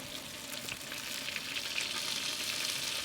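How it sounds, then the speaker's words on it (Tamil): Tomatoes sauté in a pan with rock salt, coriander leaves and mint, giving a steady hissing sizzle with light stirring, close and even throughout with no voices. "தக்காளி நல்லா வதங்கணும்."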